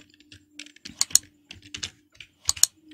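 A computer keyboard is being typed on close by, giving irregular clicks and short bursts of keystrokes with a few sharper taps. A faint steady hum sits underneath.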